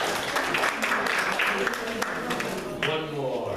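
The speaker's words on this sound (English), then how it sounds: "Give her a round of applause." A classroom of students claps in a round of applause for a classmate, a dense patter of hands that carries on steadily and fades toward the end, with voices mixed in.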